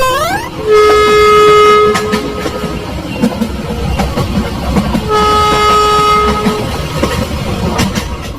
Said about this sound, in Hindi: पागल हो गए हो क्या सोन, अगर हम चलती ट्रेन से कूद जाएंगे तो सारी हड्डियां टूट जाएगी हमारी